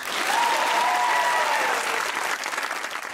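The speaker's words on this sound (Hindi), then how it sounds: "अगर हैं तो तालियां बजाएं।" A studio audience on a comedy talk show breaks into loud, full applause that stays strong, then thins and grows more ragged toward the end.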